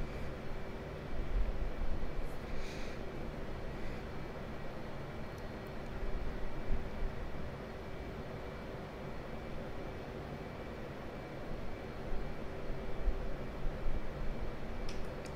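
An F/A-18 Hornet jet in the DCS flight simulator descends toward an aircraft carrier with a constant, even roar of engine and wind noise and a faint steady whine, with no talking.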